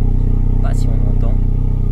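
Citroën C4 VTS 180 hp petrol engine idling loudly and close, with a steady low rumble and one or two brief throttle blips rising and falling, while someone speaks over it.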